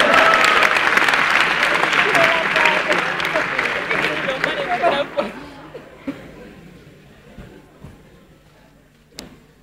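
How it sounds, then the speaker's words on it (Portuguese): A live audience bursts into loud applause mixed with chuckles and laughter, the clapping thinning and fading over several seconds until only a few scattered claps and a late thump remain. "agora sim, uma salva de palmas para eles."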